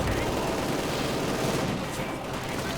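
Dense, continuous battlefield noise from Company of Heroes 2, with German mortars and MG42 machine-gun fire blending into a loud, unbroken wash of shots and blasts and no distinct pauses.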